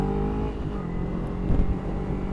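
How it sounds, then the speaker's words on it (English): A Honda Fireblade motorcycle passing on the road gives a loud, close, low engine drone that rises briefly and carries on without talk. "Look at that Fireblade!"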